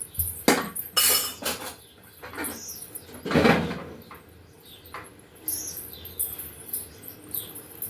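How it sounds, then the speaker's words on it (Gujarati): Metal spoons and utensils clatter as they are put away in a home kitchen, a few sharp clinks and rattles in brief bursts with pauses between, close and fairly loud. "ચમચા મારે બીજે મૂકવાનું."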